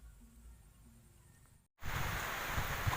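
Rain falling outdoors at dusk during a fishing trip, a soft faint hiss that cuts out briefly, then returns as a much louder, dense close patter of rain.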